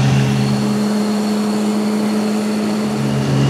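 A car drives along toward a forest plot on a forester's workday, giving a constant, fairly loud engine and road drone with a steady hum and no speech.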